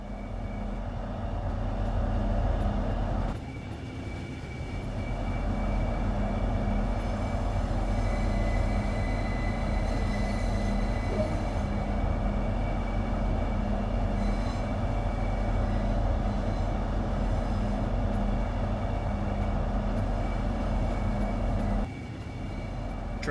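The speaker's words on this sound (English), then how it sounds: "This particular train is a Class 395 Javelin built by Hitachi in Japan for European operation." A Hitachi Class 395 Javelin six-car high-speed electric train in Train Sim World 2 runs steadily with a continuous low rumble and hum, with brief drops near the start and end, and no talking.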